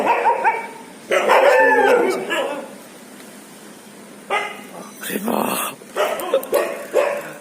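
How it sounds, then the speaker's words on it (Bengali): Several stray dogs bark on a street at night, sounding in intermittent close bursts and yips, with a person talking in between. "সামনেও 2-3টা কুকুর ঘুরছে"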